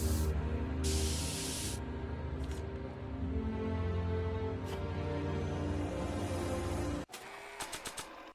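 An aerosol spray paint can hisses in long continuous bursts, loud and close, over a steady background murmur, then stops abruptly near the end, leaving a few short clicks and rattles.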